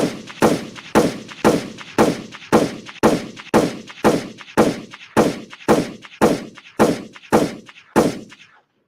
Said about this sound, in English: let's let off some gunshots